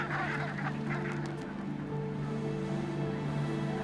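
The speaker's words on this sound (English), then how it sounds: "Brent geese are gathering in large flocks, ready to fly south." Brent geese honk in a busy flock on the tundra at a distance, calls overlapping over a low steady background rumble.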